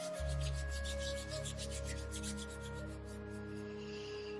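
Hands rub briskly together during a beginner hatha yoga class, a close, rhythmic rasping swish repeated steadily for several seconds over a faint hum.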